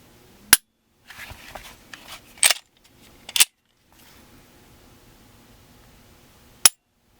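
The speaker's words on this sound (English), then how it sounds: "this is definitely a nicer trigger pull" Sharp metallic clicks from dry-fire trigger pulls on a custom Glock G43 pistol, a few isolated snaps spaced seconds apart with quieter handling rattles between.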